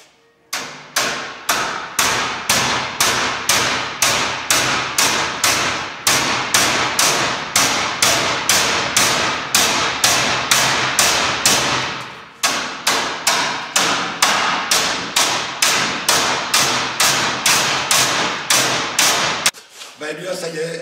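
Rapid metal hammering as a steel barbecue grill's edges are beaten and folded to a right angle, dense steady blows close up for about twenty seconds with a brief pause midway.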